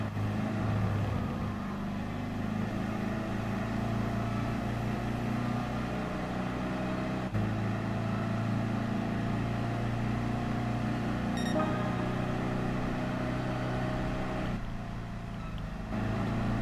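Volkswagen Beetle engine in Gran Turismo Sport, a steady droning hum with low harmonic tones that holds even for about sixteen seconds, continuous and fairly loud with no talk over it.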